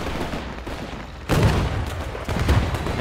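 An artillery gun fires in the World War II strategy game Men of War II, a sudden loud blast partway through followed by rumbling battle noise and a second heavy thump.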